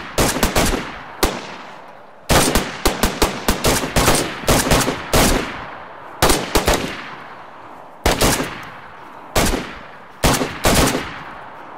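Automatic gunfire from the video game DayZ rips out in loud, repeated bursts of rapid shots separated by short pauses, each burst trailing off in a brief echo.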